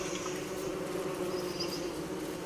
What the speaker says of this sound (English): there's a hornet nest right there, or as the game likes to call it, a killer beehive